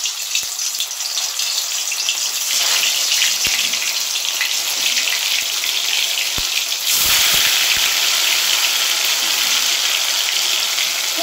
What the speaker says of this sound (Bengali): তো আমি এবার মুইঠাগুলো ছেড়ে দিচ্ছি।